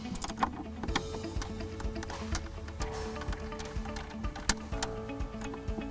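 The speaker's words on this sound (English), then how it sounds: "we're going to go ahead and take 7/16, tighten these down" Ratcheting and clicking of a 7/16 wrench tightening air box bolts on an S&B cold air intake for a 2014-2015 Dodge Ram 3.0L EcoDiesel, a steady run of close metallic ticks and taps with no talking.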